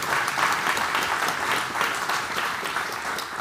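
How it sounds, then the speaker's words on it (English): A crowded audience breaks into dense, sustained applause, a steady wash of many hands clapping at once with no speech over it. "I'll let everybody applaud"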